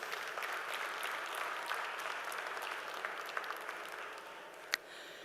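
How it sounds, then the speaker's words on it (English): At a Quality Engineering conclave on AI, a conference audience gives a round of applause: sustained, fairly soft clapping from a large crowd at an even level, ending in one sharp, louder clap near the end. "A loud round of applause, please"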